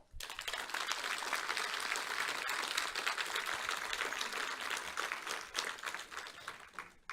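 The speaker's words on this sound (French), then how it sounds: "je demanderai à l'Assemblée de les applaudir" An assembly at a French presidents' meeting applauds with steady, dense clapping that fills the room and holds for several seconds before tapering slightly, with no speech over it.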